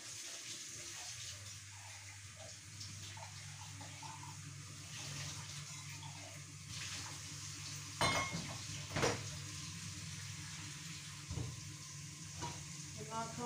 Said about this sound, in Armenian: արախիսն եմ ժարիտել